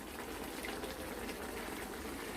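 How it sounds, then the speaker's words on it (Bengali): Raw mustard oil poured over a simmering fish curry of korti fish in mustard-poppy paste, a steady soft bubbling and liquid gush that runs continuously at low level with no voices. "ওপর থেকে কাঁচা সরষার তেল দিয়ে দিলাম কাঁচা সরষার তেল"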